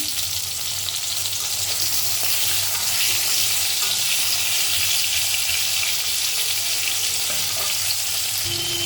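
Potatoes and chopped tomato fry in hot oil in a pan for a fish curry, a steady, close sizzle and crackle with stirring scrapes, no one speaking.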